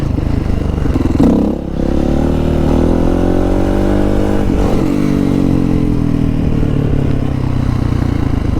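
Motorcycle engine revving loud and close while lifting into a wheelie, a sustained droning roar with pitch rising, a brief dip near the start, and another surge midway.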